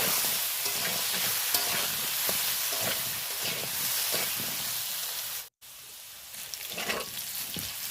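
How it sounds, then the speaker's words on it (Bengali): Potato pieces frying in hot oil with a little salt and turmeric, a steady close sizzle running throughout with faint stirring and scraping, broken by one brief dropout. "ওই তেলের মধ্যেই আমি আলুগুলো ভেজে নিলাম একটু সামান্য লবণ আর হলুদ দিয়ে আলুগুলো লাল করে ভেজে নেব"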